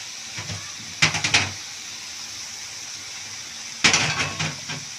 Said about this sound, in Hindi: हम इसी वक्त इसके अंदर ये टमाटर डाल देंगे, साथ में ये अदरक लहसुन का पेस्ट डाल देंगे